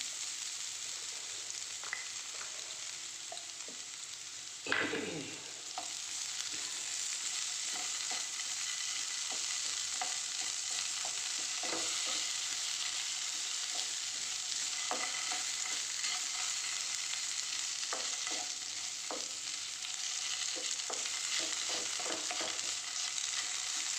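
Potatoes added to softened onions frying in a pan, a steady faint sizzle with one louder thud early on and scattered light stirring clicks over it.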